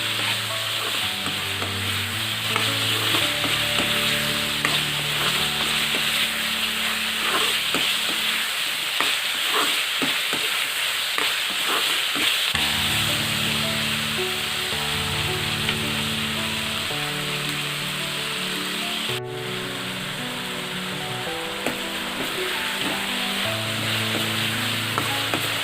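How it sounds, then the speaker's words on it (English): Chopped tomato and chicken sizzle and fry steadily in a hot pan, with a continuous crackling hiss broken by the scrape and clatter of a spoon stirring, loud and close throughout. "Let's add the tomato to it and then mix it very well and fry till the tomato start releasing its"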